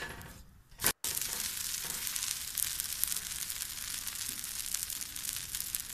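Fenugreek leaf dosa frying on a hot pan with oil, a steady close sizzle that continues after a brief clatter and a sharp cut early on.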